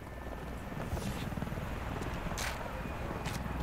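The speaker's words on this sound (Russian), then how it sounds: "Я надеюсь, это наш вертолет." Helicopter in the shooter game Wolfenstein: The New Order: a dense, steady rotor chop and engine rumble that fills the scene continuously, with a few sharp bursts layered on top.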